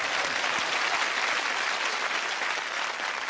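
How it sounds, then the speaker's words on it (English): A television studio audience applauds steadily and warmly, a dense, even wash of many hands clapping with no gaps. "A little more applause for this gentleman."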